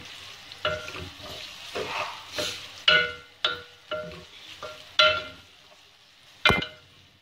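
Four small onions frying in a pan for mutton liver masala, stirred with a utensil that knocks and scrapes the pan in a run of sharp, uneven taps over a soft sizzle, close and alone.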